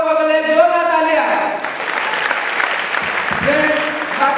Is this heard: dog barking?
no